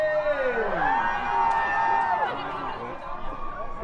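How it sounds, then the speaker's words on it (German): A red-carpet crowd in Berlin cheers and whoops for actress Joey King at a Bullet Train screening, a steady mass of excited voices with shrill calls rising above it. Some voices talk through the noise. "Großen Applaus für Joey King"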